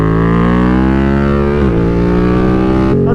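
A BMW F 900 R Cup Racer motorcycle engine revs loud and close with a strong harmonic drone, dipping briefly mid-way before rising again and cutting sharply at the end.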